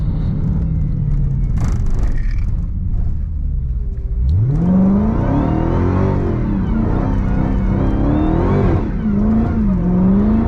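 A Hellcat-swapped Chrysler 300 on 315 tires revs hard while sliding, its engine note climbing and falling in loud, sustained waves close by after a rougher, lower opening.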